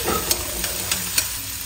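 Green chillies and onion frying with cumin in yellow mustard oil, a bright constant hiss with several evenly spaced stirring scrapes, close and fairly loud, no talking.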